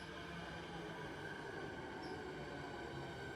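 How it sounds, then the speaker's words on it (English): A commuter train pulls into a suburban station platform in Australia, its steady rumble and rail noise filling the scene at a constant level, with a faint high squeal from the wheels partway through. "Here comes the train now."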